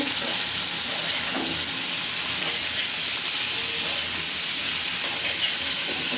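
Bitter gourd and potato pieces fry in a pan, giving a loud, steady, hissing sizzle with bursts of crackle throughout and no talking.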